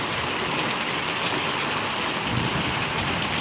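Heavy, steady rain pours down without a break in Paravadi village, Gariyadhar taluka, a dense, even hiss of drops hitting surfaces with no voices over it.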